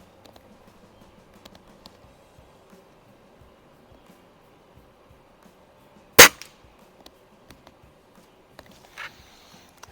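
A single sharp crack from a Daisy Model 131 .177 break-barrel pellet gun firing, heard once midway through near-silent surroundings, followed by a few faint clicks.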